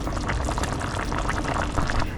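Continuous bubbling and gurgling of water at a rolling boil in a pot, close and steady, with no talking.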